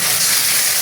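A sharp, steady hiss of steam and sizzling as water hits spice paste of fried onion, chili powder and turmeric in a hot pan for mixed-fish curry, loud and close for a brief moment.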